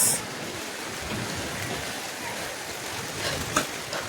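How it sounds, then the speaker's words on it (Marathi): Heavy rain pours steadily in a dense, even hiss, with a short louder splash or knock near the end. "आणि शपथ पाऊस वरच्यावर वाढत चाललाय"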